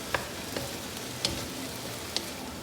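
Bean sprouts stir-fried in a wok with vegetable oil for shrimp fried rice give a steady close sizzle, with a few sharp clatters from tossing and stirring and no talking.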